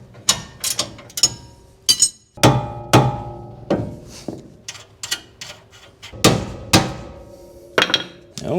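A hammer strikes a tie rod on a classic Ford Falcon's front suspension, a series of loud, close metallic blows at an irregular pace, some in quick pairs, with ringing clanks between them and no talking.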